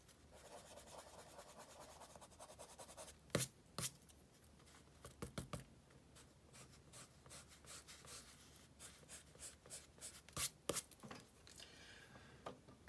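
A pencil eraser rubs over a drawing of an apple on paper in quiet, scratchy bursts of short strokes with small gaps between them, close to the microphone.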